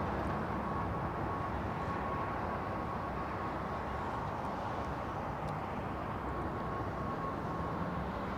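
A departing British Airways airliner rumbles at a distance, a steady broad low roar of jet engines that stays even and fairly faint throughout with no voices over it.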